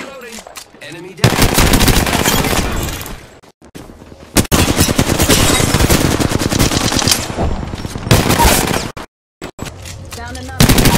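Heavy automatic gunfire fills an Apex Legends match, with loud sustained bursts broken by short gaps, and game voice lines briefly heard between the volleys.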